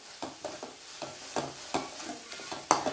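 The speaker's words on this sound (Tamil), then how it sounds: "நல்லா கிளறி விடுங்க" Spices stirred into sautéed tomatoes for a soya keema curry in a pan, with soft scraping strokes over a low sizzle, close and quiet.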